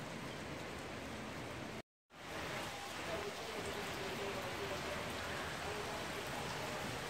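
Steady rain from a rainstorm in Cuenca, Ecuador, a dense even hiss that fills the clip with a brief cut of silence early on, and no talking.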